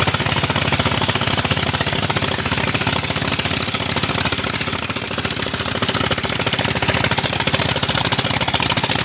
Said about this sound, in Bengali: মেশিনগুলো চলছে